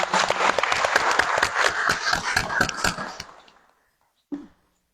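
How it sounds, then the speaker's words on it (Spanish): Audience at a book presentation gives a burst of clapping that holds for about three seconds, fades out to silence, then a brief single clap or knock follows. "Un fuerte aplauso también para"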